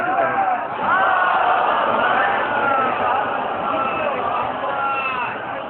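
An audience at a religious majlis gathering shouts slogans in scattered, overlapping bursts, a loud and dense crowd of voices that swells and rises in waves.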